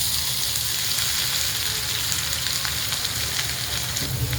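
Chopped onion sizzling in hot oil with cumin and mustard seeds for tomato chutney, a loud, steady crackling hiss that continues evenly throughout with no talking.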